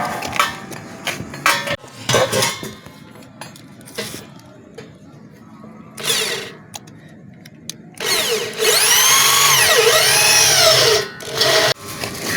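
A power drill bores holes for mounting solar panels in short loud bursts separated by pauses, with one longer whining stretch near the end and faint clatter and movement between runs.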